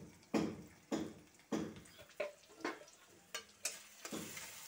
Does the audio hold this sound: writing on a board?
no